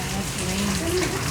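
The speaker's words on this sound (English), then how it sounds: "There's ice coming out of the sky. It's called hail." Hail falling from the sky makes a dense, steady patter and rush of hits, loud and close, with a voice talking over it.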